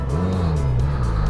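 A Suzuki motorcycle engine runs close by with the throttle blipped, a steady low hum that swells and dips slightly in pitch over a brief moment.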